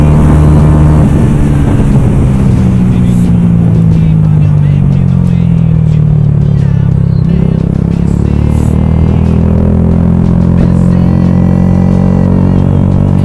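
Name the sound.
motorcycle exhaust revving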